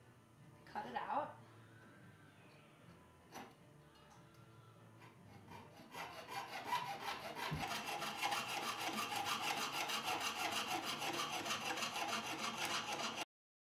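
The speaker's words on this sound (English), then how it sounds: "I take my jeweler's saw, and I go to my bench pin and" Jeweler's saw cutting copper sheet at a bench pin, a steady, rapid rasping stroke that starts after a few faint handling sounds and runs on evenly, close and fairly quiet.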